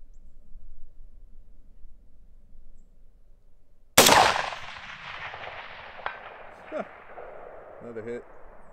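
A single loud, close rifle shot from an AR with a 20-inch Aero Precision upper, government-profile barrel and 1-in-7 twist, ringing out in a long decay, followed by faint distant clanks after quiet before.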